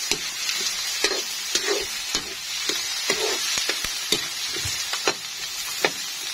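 Corned beef frying in a pan with onion and garlic, a steady dense sizzle broken by regular scraping and tapping strokes of a stirring utensil, close and even.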